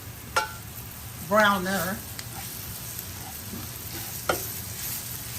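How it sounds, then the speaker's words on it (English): Beef for stew sizzles and fries in a pan with scattered crackles and a brief stir or voice burst, fairly quiet and close. "So I'm frying that up."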